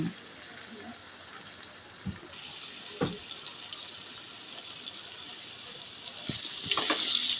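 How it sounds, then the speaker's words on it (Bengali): Chopped onions fry in a small amount of oil in a pan for a duck meat curry, a steady soft sizzle with a few utensil knocks that swells louder near the end. "পেঁয়াজটাকে এবার তেলের সাথে ভেজে নেব"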